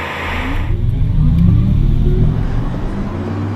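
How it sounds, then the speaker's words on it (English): Audi R8 e-tron electric sports car driving on the road, a steady loud whirring drone with a low rumble that swells slightly as it moves past, close and continuous. "This is what the Audi R8 e-tron sounds like on the road."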